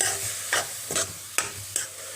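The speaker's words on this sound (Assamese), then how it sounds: "ভাজি ল'ম।" Grated green papaya frying in a pan with a soft sizzle, broken by four quick scraping stirs of a spatula at roughly even intervals, close up.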